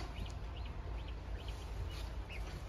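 Geese in a farm supply store honk and call in short, repeated bursts, a handful of nasal calls spread across the clip over a constant low rumble of indoor background noise.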